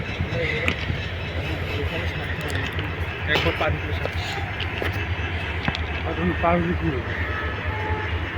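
Trains stand and move at Kamalapur railway station, a steady rumble of rail traffic and station bustle underneath, with voices talking nearby.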